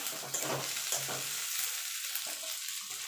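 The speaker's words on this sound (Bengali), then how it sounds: "দিয়ে ভালো করে পেঁয়াজের সঙ্গে মিশিয়ে নেব" Potato and eggplant stirred into fried onion in a pan produce a continuous hiss of frying, with soft scraping and low knocks from the stirring utensil.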